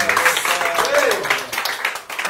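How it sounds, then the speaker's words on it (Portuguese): Applause from a small group in a house, dense clapping mixed with voices talking and cheering throughout. "tá um brilho. Palmas."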